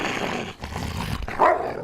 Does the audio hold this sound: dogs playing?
yes